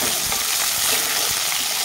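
Whole cumin seeds and chopped onion fry loudly in hot oil, a dense, continuous close-up sizzle with a steady hiss throughout and no talking.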